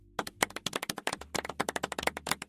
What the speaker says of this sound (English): Good for you. Clap.